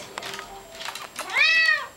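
A cat meows once, close and clear, a drawn-out cry following a few soft rustles.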